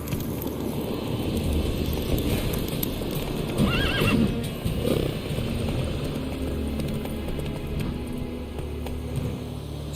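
Roach the horse gallops in The Witcher 3, loud clip-clopping hooves driving steadily throughout, with a clear whinny rising midway before the rhythmic hoofbeats carry on.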